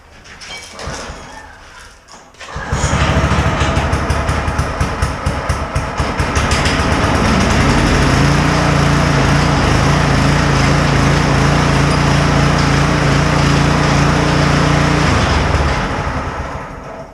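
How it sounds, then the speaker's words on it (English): The small motor of a homemade buzz saw wood cutter starts after a few quiet knocks and settles into a loud, steady engine drone that runs close and continuous for about fourteen seconds. "Now, we'll see if we can get this motor started first."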